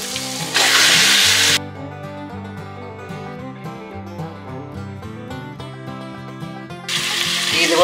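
Chicken goes into frying biryani masala in a pan, producing a loud hissing sizzle in two bursts, one near the start and one swelling at the end, with background music playing between them.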